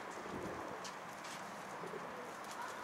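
A pigeon arrives at a coop where a runaway bird has refused to go in, with soft cooing and faint wingbeats under a steady outdoor hiss of wind.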